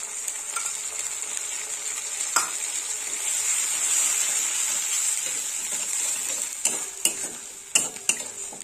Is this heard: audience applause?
no